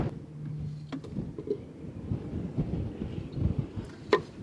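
Steady low outdoor rumble of wind buffeting the microphone beside a broken-down semi truck, with occasional soft knocks and clatters, and no one speaking.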